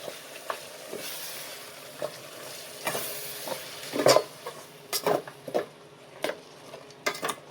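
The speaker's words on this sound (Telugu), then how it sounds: "ఫస్ట్ మిక్సీ వేసి పెట్టుకున్న కొత్తిమీర పచ్చిమిర్చి పేస్ట్ని అయితే యాడ్ చేసుకుందాం" Coriander and green chili paste hitting hot oil in a pan for paneer pulao, a soft steady sizzle broken by sharp scraping stirs and clinks of a spoon, close by and without talk.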